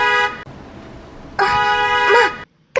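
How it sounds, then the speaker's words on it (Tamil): A car arrives with loud horn honks in an animated cartoon scene: a short toot, a pause with a low engine rumble, then a longer, wavering honk before sudden silence. "கிறிஷோட கார் சத்தம் தான் அது."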